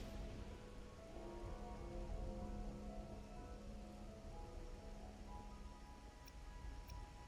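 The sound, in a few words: rain falling in a video game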